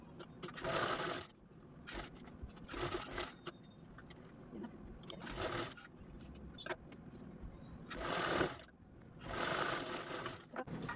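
A sewing machine stitching a round, party-wear fancy potli bag, running in several loud whirring bursts with brief pauses and handling noise between them.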